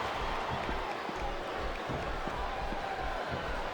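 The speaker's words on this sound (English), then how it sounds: "This capacity crowd is making their opinions known tonight." Arena crowd in the wrestling video game WWE SmackDown vs. Raw 2007 roaring and cheering steadily, a dense, constant wash of crowd noise that holds at an even level throughout with faint thuds beneath it.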